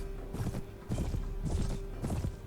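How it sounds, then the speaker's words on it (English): Horse hooves clip-clop in a steady four-beat rhythm in the Viking Conquest video game, close and fairly loud over a faint constant hum, with no talk. "Oh, now we get the horse."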